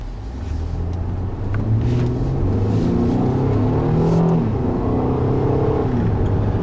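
A 2013 Ford Explorer Sport's twin turbo V6 engine revs hard and steadily, a deep throaty roar with rising and falling pitch that stays loud throughout.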